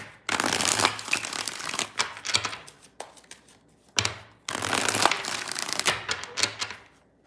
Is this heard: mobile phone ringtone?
no